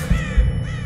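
A crow caws in the horror shooter Until Dawn: Rush of Blood, two quick harsh calls close by within under a second, standing alone without talk.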